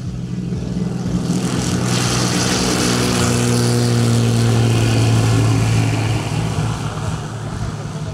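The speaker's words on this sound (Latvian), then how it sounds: "Tālāk jums aiz muguras ir jau akrobotiskā lidmašīna, Open Extra 330." Propeller engine of an Extra 330 aerobatic airplane drones steadily at a moderate distance, a continuous loud hum with a broad noisy wash that swells slightly in the middle and eases toward the end.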